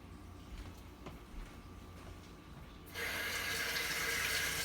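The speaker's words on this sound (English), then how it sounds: "I'm going to wash my hands." Hands are washed under a running kitchen tap during a stuffed artichoke cooking demo. After a quiet, humming room, a loud steady rush of water starts suddenly and keeps flowing close by, with no talking.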